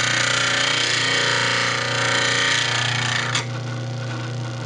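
A bench grinder runs continuously at high speed, its loud whine and grinding rasp steady as a woodturning skew is held flat against the wheel, easing off slightly near the end.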